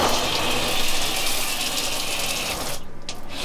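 Water runs steadily from a newly installed faucet in an Airstream trailer, a constant close hiss of flow that cuts off abruptly near the end, leaving only a brief trickle.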